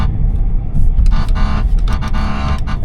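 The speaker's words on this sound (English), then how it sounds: "We're going to honk in the Cybertruck" A Tesla Cybertruck's horn honks in a few short blasts close by, with engine rumble and street noise underneath.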